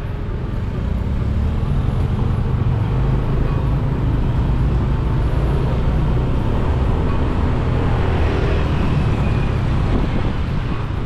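A car driving along Petitenget Street in Seminyak, Bali, with a constant, dense rumble of engine and road noise and surrounding traffic, steady and unbroken throughout, no voices.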